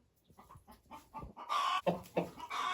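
An Ameraucana hen, a breed that lays blue eggs, clucks close by in a series of short, soft calls that grow louder and more insistent toward the end.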